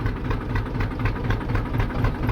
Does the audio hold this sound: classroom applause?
no